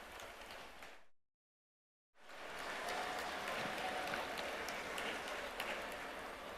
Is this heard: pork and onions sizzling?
no